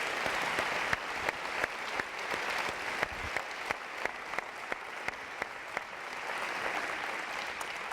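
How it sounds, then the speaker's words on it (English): Steady, fairly quiet round of audience applause for Kent County School District future educator students after their presentations at a training event, with crisp individual claps standing out from the dense clapping. "let's give them one more round of applause"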